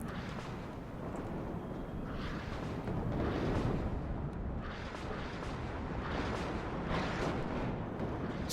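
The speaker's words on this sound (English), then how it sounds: "artillery is raining down on them" Artillery shells and cluster bombs pounding a position in the WARNO strategy game, a dense continuous rumble of overlapping blasts with repeated swelling bursts every second or so, loud and sustained with no talk.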